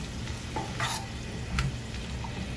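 Vegetables sautéing in a pan for sweet-and-sour chicken, a steady close sizzle with a few scraping stirs of the spoon, no voices.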